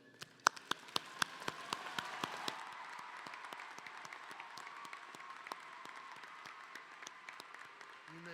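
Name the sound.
audience applause at commencement ceremony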